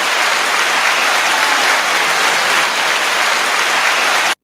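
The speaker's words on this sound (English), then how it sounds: "With that loud ass applause, yeah." Loud, dense applause from a large crowd, steady and sustained throughout before cutting off abruptly.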